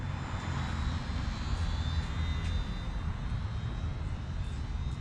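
A remote control Sports Cub S model airplane flies with its electric motor running, a continuous buzzing drone at steady moderate distance, holding a fairly even pitch throughout with no talking.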